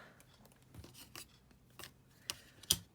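Scissors snipping wool yarn while finishing a wood and wool heart craft, a few quiet rasping cuts and rubs ending in two sharper snips.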